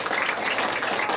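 An audience applauding for Dr. David at a talk, a brief burst of dense, close hand clapping that stays even and loud with no voices over it.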